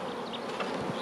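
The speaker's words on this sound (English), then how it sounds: "We just need to be mindful of these bees that are drifting around." Honey bees buzz steadily around an open hive during a Bailey comb exchange, a continuous close insect drone with no talk over it.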